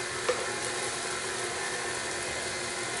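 An electric mixer churns turkey meatloaf mixture in a bowl, giving a steady, fairly loud whirring hum with a faint thump near the start and no talk.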